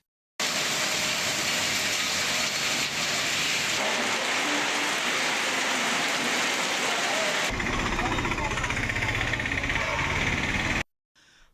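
Heavy rain pours steadily and loudly in Rajapalayam, a dense continuous roar that shifts in character partway through before cutting off abruptly.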